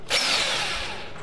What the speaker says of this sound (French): on va mettre une énorme mèche